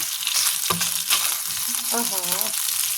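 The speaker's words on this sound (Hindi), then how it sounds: "तो इसको मैं चला लेती हूँ एक बार, बस फ्राई कर लेती हूँ। यहाँ मैं कर रही हूँ फ्राई।" Fish frying in a pan gives a loud, close sizzle with stirring scrapes, and a short wavering tone rises briefly near the end.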